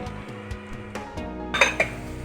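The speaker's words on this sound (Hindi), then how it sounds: "शामिल कर दिया है गार्लिक और मैं थोड़ा सा इसको हिलाऊंगी।" A spoon clinks and scrapes against a pan while garlic fries for a chili paste, several distinct metallic taps in sequence, close and fairly loud, with no voices.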